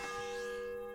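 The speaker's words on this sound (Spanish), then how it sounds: "En medio de la noche a darle a la campana." A church bell rings in the medieval village of Kingdom Come: Deliverance, one clear struck tone that rings out and slowly decays with a shimmering hum, heard alone and fairly near.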